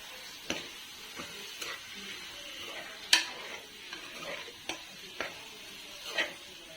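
Brinjal curry with freshly added chopped coriander being stirred in a pan, giving scattered scraping clicks of the spoon at irregular intervals over a faint steady sizzle, close and fairly quiet.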